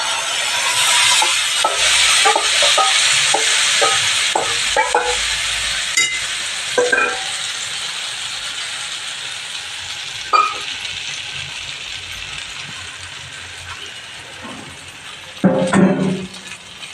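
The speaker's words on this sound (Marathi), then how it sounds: "हे पीठ कालवून घेतलेलं आहे ह्याचा मी वर या फोडणीवर ओतणार आहे" Jowar flour batter is poured onto a hot tempering in a pan, setting off a loud, close sizzle that slowly fades, followed by a few sharp metallic scrapes and clinks of stirring.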